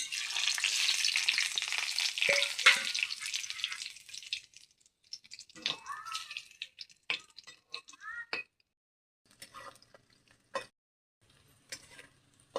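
Whole cumin, bay leaves, cardamom, peppercorns and cinnamon fry in a hot wok, a loud hissing sizzle for the first few seconds that dies away into sparse clinks, taps and faint crackles.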